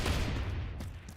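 A KS23M shotgun fires in Phantom Forces with a heavy, punchy boom and a second blast right after it, loud and close, with a deep low-end thump that rolls off quickly.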